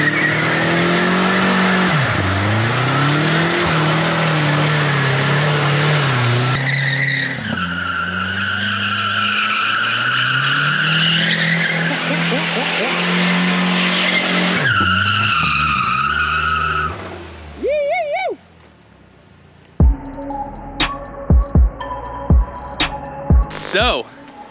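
A turbocharged 2.3 liter Ford Pinto drift car skids with loud, sustained tire squeal over a roaring, shifting engine, then drops to near quiet before sharp revving blips and clatter close by.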